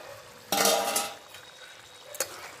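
A metal lid is lifted off a pot of boiling pea curry with one bright scraping clang, then comes a quieter clink. The sounds are close, and a low bubbling simmer fills the gaps.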